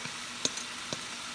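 Pork pieces frying in a pan for Filipino dinuguan (tinumis), a soft steady sizzle with a few brief louder crackles, quiet and close, no talking.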